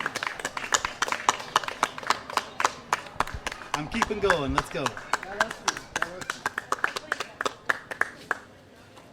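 An open-mic crowd at Lausitzer Platz in Berlin keeps up rhythmic clapping as a singer walks to the stage. The claps are steady and close and go on under brief talk before fading out.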